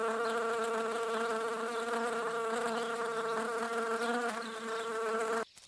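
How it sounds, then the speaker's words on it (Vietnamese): A bee buzzes steadily and loudly up close, a dense droning hum with a wavering pitch that holds for several seconds before cutting off abruptly near the end. "Bee."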